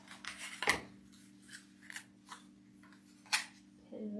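Scissors snip through ribbon for a baseball-themed wreath, a few sharp separate cuts spaced over a quiet background with a low hum, close and fairly faint.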